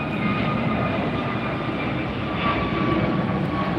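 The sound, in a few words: Air France Boeing 777-300ER jet arriving at LAX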